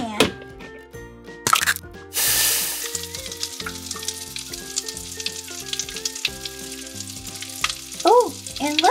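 Toy egg frying in a pan on a Minnie Mouse play kitchen, a bright sizzling hiss after a crack, mixed with cheerful music and sound effects, loud and close.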